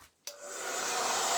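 A hair dryer switches on after a brief quiet moment and blows steadily, its whooshing hum rising and holding loud and close while drying a photo pumpkin craft project.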